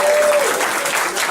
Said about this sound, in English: So let's give them another big round of applause.